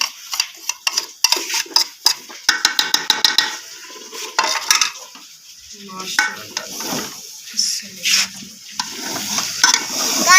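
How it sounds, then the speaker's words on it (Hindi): Carrot halwa with khoya being stirred and fried in a pan, with rapid metallic spoon scrapes and clinks against the pot over a soft sizzle, close and busy, pausing briefly then resuming. "इसके अंदर अब हम डालेंगे खोया डाल के फिर अच्छी तरह इसको भूनेंगे"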